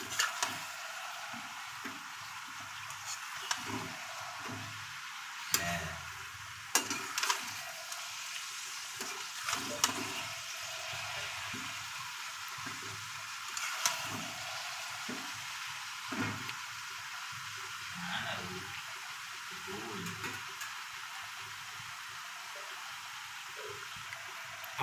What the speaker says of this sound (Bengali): আমরা একটু সবগুলোকে একসঙ্গে নাড়াচাড়া করে নিচ্ছি।